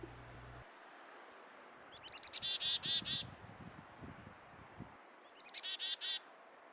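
Birds call outdoors in spring, two separate bursts of rapid chirping notes heard at moderate distance over a faint, quiet background.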